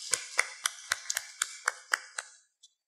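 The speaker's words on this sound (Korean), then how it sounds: "여러분 박수 한번 칩시다." Sharp hand claps at a Sunday morning church service ring out in a quick, even rhythm, about ten crisp strikes that fade and stop with one last faint clap.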